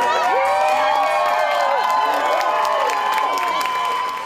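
A crowd in Needham cheers and shouts for their hometown astronaut as the SpaceX Dragon capsule splashes down, with excited voices and whoops blending into a loud, continuous roar.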